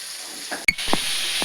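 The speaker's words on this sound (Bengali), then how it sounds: "ভাজা হচ্ছে" A spice paste fries in a very large wok, giving a steady close sizzling hiss throughout, with one sharp metallic clink and a few soft stirring scrapes.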